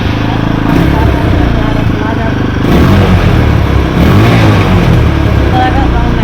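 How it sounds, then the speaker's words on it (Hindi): A TVS Apache RTR 160 motorcycle with a sound problem is started and left running, its engine a loud, close, continuous rough idle with a couple of small surges partway through. "गाड़ी को स्टार्ट करके बताएंगे किस तरह का साउंड कर रहा था पहले"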